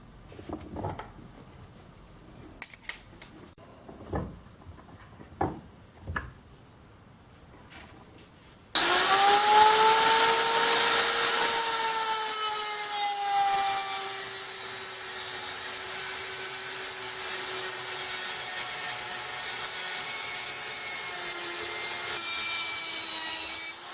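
A power tool cuts hardened steel with a loud, sustained high-pitched grinding screech. Before that, a few scattered knocks and handling noises are heard, then the cut runs steadily for about fifteen seconds.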